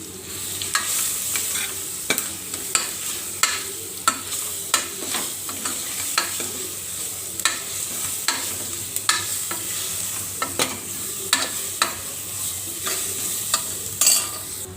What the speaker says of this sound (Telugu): మనం గ్రైండ్ చేసి పెట్టుకున్న మిరియాలు జీలకర్ర పొడిని అంతా వేసి వేయించుకోవాలి